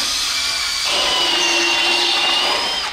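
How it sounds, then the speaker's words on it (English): A power drill bores through an engine oil pan to fit a turbo drain in a shop, giving a steady, close, high-pitched whirring grind that rises in pitch and intensity about a second in and holds for the rest. "we're just drilling the oil pan for the turbo drain"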